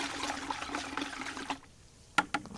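A bamboo stick stirs Masterblend fertilizer solution mixed for in-ground tomatoes, giving a close, steady liquid swishing for about a second and a half, then quiet, then a few sharp taps against the container.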